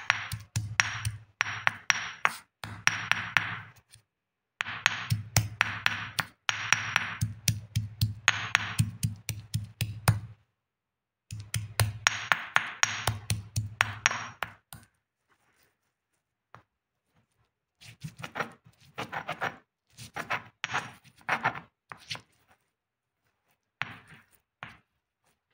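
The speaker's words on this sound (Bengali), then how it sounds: "এবার এগুলোকে আমি থেঁতো করে নেবো, যার থেকে সহজেই রসটা বাড়িয়ে আসে।" Mortar and pestle pounding tulsi leaves with honey: rapid rhythmic bursts of hard strikes in several runs separated by short pauses, close and fairly loud, thinning to scattered taps near the end.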